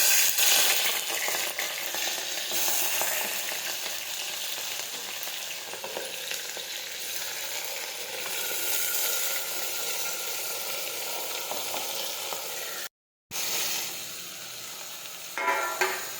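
Cowpeas sizzling in hot oil with mustard seeds and cumin, a steady dense frying hiss with faint crackle throughout, broken by a brief silent gap near the end.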